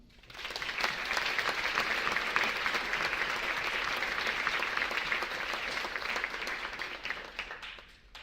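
Applause at a school governing board meeting for the student board members: a room of people clapping steadily for about eight seconds, moderately loud, swelling in quickly and tapering off at the end, with no speech over it.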